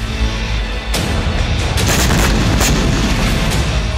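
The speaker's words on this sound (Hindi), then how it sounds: "यूक्रेन ने मॉस्को में बहुत बड़ा विस्फोट कर दिया है" A large explosion in Moscow in news footage: a loud boom hits about a second in, followed by sustained roaring, crackling blasts and sharp bursts that keep the level high.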